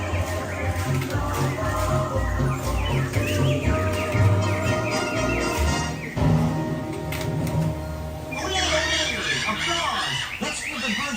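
Animatronic birds sing in Disneyland's Enchanted Tiki Room, a loud bright chorus of chirps and whistles layered over show music and crowd noise that fills the whole stretch.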